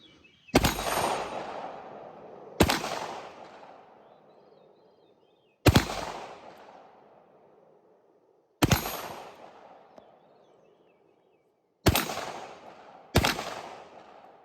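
Six sharp 9mm handgun shots ring out one at a time at an outdoor shooting range, each loud crack followed by a ringing decay, spaced a few seconds apart.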